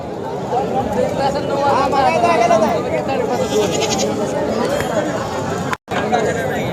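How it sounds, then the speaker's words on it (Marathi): Goats, four to five months old, bleat at the busy Sangola goat market. The calls are repeated and sound close, heard under constant crowd chatter and people talking. "किती महिन्याचे बोकडे आहेत"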